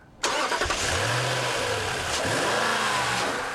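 A car engine with a 4.7-litre V8 and 5-speed automatic starts up abruptly and revs hard, holding a loud, steady roar with rising and falling pitch.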